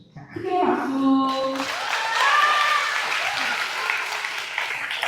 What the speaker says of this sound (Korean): 크게 박수